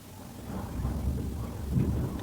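Deep rumbling thunder rolls beneath a steady wash of heavy rain, close and continuous.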